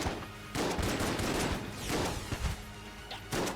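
Enemies in Enter the Gungeon firing at each other, a dense, loud stream of overlapping video-game gunshots and impacts, continuous with brief gaps.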